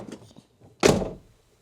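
A car's central locking actuators fire at once with a single solid thunk across the doors, preceded by faint small clicks, close and fairly loud.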